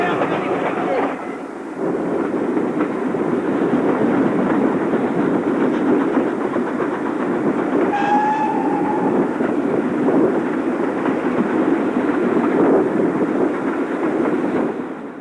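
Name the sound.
special train climbing gradient toward Devonshire Tunnel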